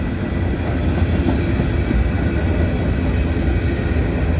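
A freight train car with flat spots on its wheels rolls past close by, a loud continuous rumble with rhythmic rail clatter that stays steady throughout, no talking.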